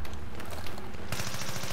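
A minigun fires in Battlefield 3, a dense, loud, continuous stream of rapid gunfire that grows brighter and harsher partway through.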